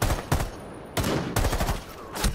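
Several sharp gunshots in Rainbow Six Siege, close and loud, spaced roughly half a second apart, with a ringing tail under each blast.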